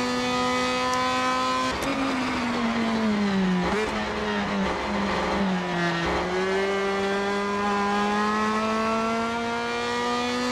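Racing car engine in the video game Assetto Corsa, a South American touring car race mod, droning loudly and steadily throughout with a shifting pitch as it revs, drops and climbs again through corners.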